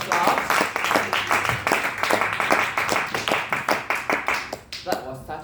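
A Toastmasters meeting audience gives a round of applause, with steady, evenly spaced clapping from a modest group close by that thins and slows toward the end.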